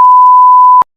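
A single loud, steady censor bleep tone holds for almost a second, then cuts off abruptly into silence.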